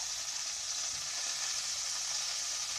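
A frying pan sizzles steadily as ice burns off its surface, a faint continuous hiss with no pauses.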